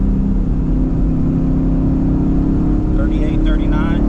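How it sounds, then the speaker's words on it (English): A ProCharger supercharged car engine holds steady at a set RPM, a loud, continuous droning roar with a thin whine rising toward the end. "What I'm doing is I'm taking the car through different RPM bands and holding it there"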